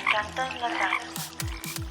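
Frogs croaking at a wetland, several low, gulping croaks in quick succession after a stretch of higher chirping calls, fairly close and clear.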